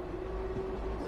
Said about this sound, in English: I have to move the train back again.